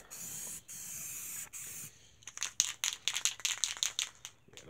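Rust-Oleum gloss deep blue spray paint sprayed onto a metal shop toolbox, two long steady hissing bursts followed by a run of short rapid spurts, close and fairly quiet with no talk.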